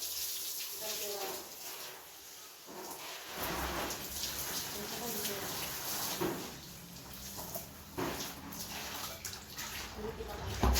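Water splashes and patters steadily over the leaves and soil of cut green grass jelly (cincau) plants, with a voice talking over the running water throughout.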